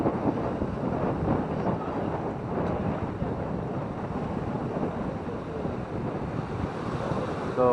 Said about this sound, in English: I think my voice is not audible properly because of the wind.